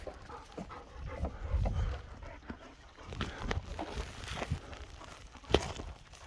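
A dog pants in rapid breathy bursts outdoors on a ranch on a windy day, close and fairly soft, with a few faint footsteps and light knocks mixed in and no talking.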